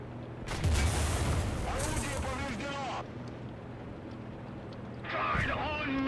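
A Panther tank's cannon in War Thunder fires with a loud, heavy blast at the start, followed by a rumbling tail and a second booming shot near the end.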